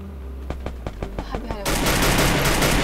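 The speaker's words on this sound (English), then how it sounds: "Oh, somebody's shooting me from above." Rapid gunfire in a shooter video game: a burst of separate sharp shots, then a dense, continuous roar of automatic fire, loud and close with no voices.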